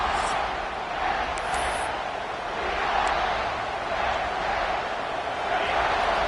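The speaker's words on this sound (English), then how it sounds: "this crowd trying to help keep them there" Stadium crowd in the College Football 26 video game: a steady, broad roar of many voices swelling slightly, fairly loud and continuous without distinct talk.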